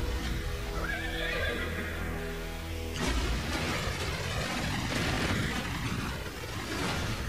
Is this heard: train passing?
no